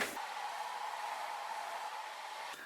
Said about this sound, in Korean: 머리를 아주 살짝만 말릴게요